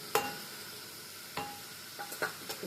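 Tempering of spices, lentils, dried red chillies and garlic frying in oil, a soft steady sizzle broken by a few sharp spoon knocks and scrapes against the pan, with no talking.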